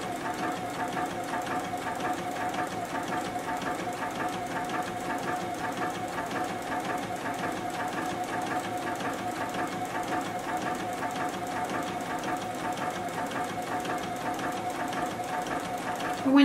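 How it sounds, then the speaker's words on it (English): A JUKI sewing machine stitching a straight line across a fabric beverage coaster, one continuous even whir lasting the whole stretch, close and steady, ending with a brief bump. "all we're going to do is simply sew down that line to give us our definition"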